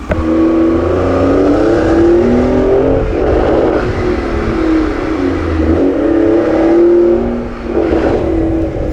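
A BMW M340i fitted with a big turbo revs loudly and close, engine note rising and falling through boost with a whirring turbo tone, continuous with no talking.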